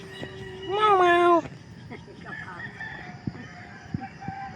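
A cat lets out a single loud, drawn-out meow while three cats are being fed. Quieter clatter and faint background noise follow.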